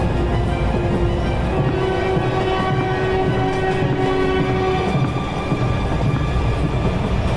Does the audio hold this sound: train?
yes